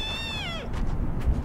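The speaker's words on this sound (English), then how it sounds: "There's your cats." A cat meows in the video game Shelter 2, a single clear, rising then falling cry up close, followed by soft background ambience.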